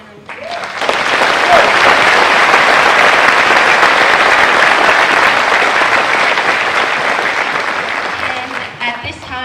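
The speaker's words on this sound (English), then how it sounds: "Can we get another round of applause for Lieutenant General?" Loud, sustained applause from a large crowd at a high school graduation ceremony, rising quickly to a dense roar of clapping that holds steady for several seconds before gradually tapering, with faint voices underneath.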